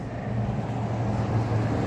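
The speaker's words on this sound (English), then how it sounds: "wow, that car is so loud" A loud car passing by outdoors, a steady low engine and road rumble that swells slightly and dominates throughout, with no talking over it.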